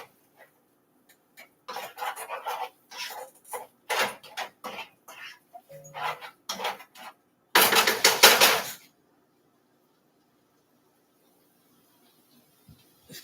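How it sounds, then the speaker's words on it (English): A metal spoon scrapes and clatters against a pot in a kitchen sink while one-pot creamy lasagna pasta is being made, coming in bursts of close, sharp scraping followed by a louder stretch of clanking and rinsing. "then I'll put it in the sink and get the spoon back"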